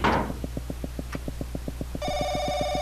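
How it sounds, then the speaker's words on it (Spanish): A telephone rings in the horror video game Paranoiac, with a steady low pulsing beat running throughout and a bright electronic ringing tone that begins partway through and continues loudly to the end. "Oh, teléfono."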